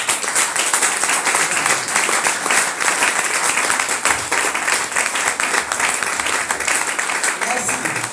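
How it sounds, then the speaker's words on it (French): Loud audience applause at an evening gathering, a dense steady wash of clapping filling the whole stretch with no pauses. "je voudrais qu'on acclame très fort."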